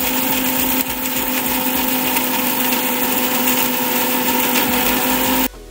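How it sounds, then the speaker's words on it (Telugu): A kitchen mixer grinder whirs loudly and steadily while grinding coconut, coriander seeds, cinnamon and cloves into a paste, a continuous close motor whine with rattling contents that cuts off abruptly at the end. "కొంచెం కొబ్బరి, కొంచెం ధనియాలు, కొంచెం చెక్క, లవంగాలు అయితే వేసేసుకొని మిక్సీ పెట్టేసుకోవాలి"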